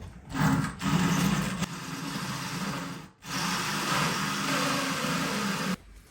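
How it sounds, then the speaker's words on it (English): A power drill whines steadily as it bores into hard tile, stopping briefly twice before starting again, close by. "It's starting to drill into it now."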